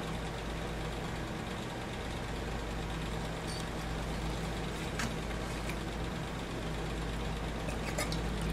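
A Cub Cadet CC4175 engine on a quick test run, fueled with a 50:1 gas mix, runs steadily at a low idle-like drone throughout, close and continuous with faint clicks and rattles on top.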